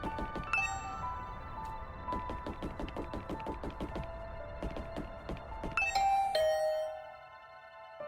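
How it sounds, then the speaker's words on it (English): A two-tone doorbell chime in the video game The Hundred Line: Last Defense Academy rings out clearly above a busy backdrop of clicks and knocks, the electronic bell tones repeating before fading into quieter hum. "I rang the doorbell and could hear the bell ring on the other side of the door"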